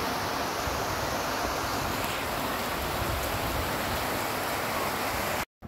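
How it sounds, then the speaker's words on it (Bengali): Heavy rain pouring steadily during a thunderstorm, a dense, loud broadband hiss with no pauses, ending in a sudden cutoff. "দেখো সবাই আমাদের এইদিকে কত বৃষ্টি হইতেছে"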